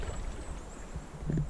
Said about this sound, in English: now the wind is just howling